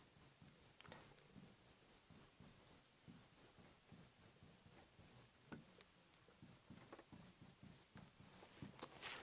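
Pen scratching steadily across paper as notes are written during a Korean biology lecture, a close, continuous run of short rhythmic strokes with no talk over it.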